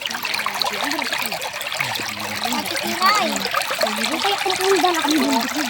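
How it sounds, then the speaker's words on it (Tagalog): Clear spring water overflowing from a tank tumbles down a small waterfall, a close, steady trickling splash with bubbling gurgles throughout and no one talking. "isa nga sa mga dumadaloy na tubig dito ay ang umaawas na tubig mula sa tangke ng Abuyon."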